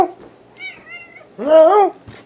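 A cat meows up close, a short high call followed by a louder, drawn-out wavering meow.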